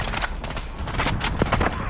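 Rapid bursts of gunfire in a shooter video game, several sharp cracking shots in quick succession over a busy background, fairly loud throughout the short moment.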